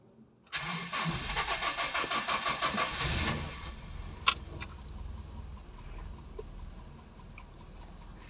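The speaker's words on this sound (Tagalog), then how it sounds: "Engine on." Toyota Tamaraw FX with a 7K gasoline engine, a brief jangle of keys, then the starter cranks in rapid pulses for about two seconds before the engine catches and settles into a steady idle, close up.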